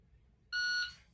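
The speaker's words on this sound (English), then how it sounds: "you've got a start timer, a shot timer, sorry, and then you've got a start beep and a par time beep" A shot timer sounds its start beep while handgun drills are set up: one loud, steady electronic tone that holds for about a third of a second, then cuts off over a faint, low background hum.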